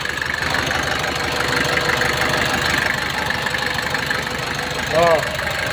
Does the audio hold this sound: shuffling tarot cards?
no